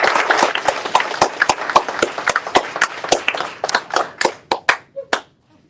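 A crowd at a summer academy showcase applauds the sponsors and volunteers with a burst of sharp hand claps that thins into scattered individual claps and fades out within a few seconds.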